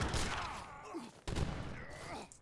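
Abus guns of the Ottoman army firing during a real-time strategy video game battle against the British, a dense volley of booming shots in two bursts with rumbling battle noise throughout.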